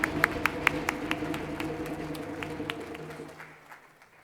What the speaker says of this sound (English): a big round of applause for our winners and to our jury